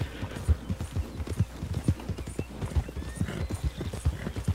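A Morgan horse in Red Dead Redemption 2 gallops in a quick, even clip-clop of hoofbeats, close and moderately loud, with whinnying woven through the run.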